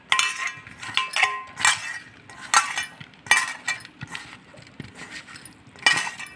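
A spoon stirs paneer with chili powder, turmeric and ginger-garlic paste in a bowl, producing irregular, close metallic clinks and scrapes in uneven bursts separated by short quiet gaps.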